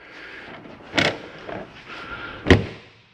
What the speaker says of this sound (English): Pull back on this and lock your steps in.